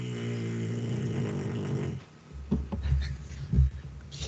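A dog snoring close by, several slow rumbling breaths with low nasal buzz, drawn out and rising and falling, heard on its own without talk.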